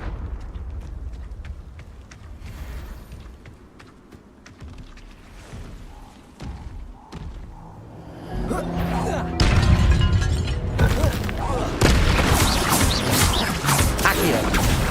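Spell explosions from the Hogwarts Legacy video game: loud crashing blasts and shattering bursts that build in the second half, dense and sustained over quieter clicks and rumble earlier on.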